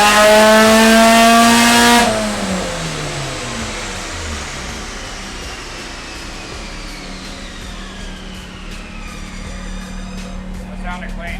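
A supercharged Mazda Miata engine on a dyno, running on pump gas, screams loudly at high revs, then the throttle snaps shut and the engine winds down and hums lower for the rest of the clip.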